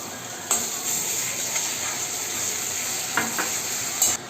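Ginger paste drops onto garlic paste and browned onions in a pan, giving a steady close hiss of frying, with a few soft knocks of a spoon.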